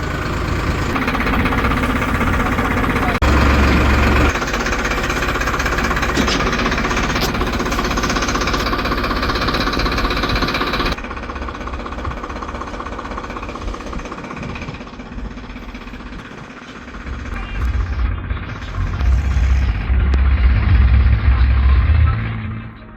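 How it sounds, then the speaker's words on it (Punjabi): Loud, heavy tractor engine rumble with a cutter machine attached for harvesting a mung bean crop, a hammering, vibrating roar, steady at first, then dropping and rising again close by. "ਆਪਾਂ ਚੱਲਦੇ ਆ ਮਸ਼ੀਨ ਨੂੰ ਲੈ ਕੇ ਕਟਰ ਪਾਵਾਂਗੇ ਟਰੈਕਟਰ ਮਗਰ"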